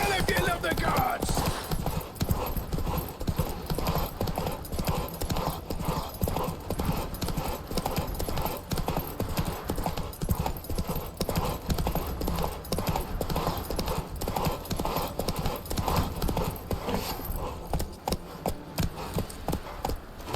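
Hoofbeats of the horse Roach galloping steadily in The Witcher 3 video game, a continuous clip-clop rhythm under game music and speech throughout.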